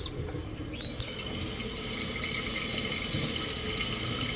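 Water rushes steadily into a toilet tank as it refills after the supply valve is turned back on, a constant close hiss and gurgle with no break, alone without talk.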